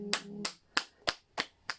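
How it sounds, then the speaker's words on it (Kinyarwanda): Church congregation applause comes as six separate sharp claps spaced evenly, close and crisp, with no voices heard. "katuyikomera amashyi"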